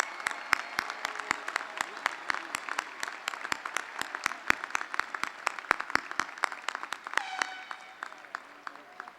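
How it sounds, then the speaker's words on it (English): Applause at a high school graduation ceremony for the valedictorians and salutatorians, with sharp individual claps from a fairly small, nearby group, irregular and steady throughout and slightly denser toward the end. "can we please have a big round of applause for our valedictorians and salutatorians?"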